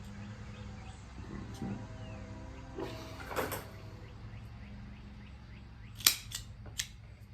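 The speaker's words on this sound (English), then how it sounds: "So a V cut drives like a little sharp channel, like a razor channel through it, and it creates a V on the cap." A V cutter slices the cap of an Alec Bradley Project 40 cigar, giving one sharp, close snap near the end with a softer click just after, over a quiet room with a low hum and a few faint taps earlier.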